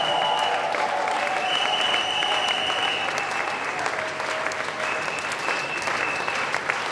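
A congregation at a night of prayer applauds continuously, with dense steady clapping filling the room. A voice rings out over it.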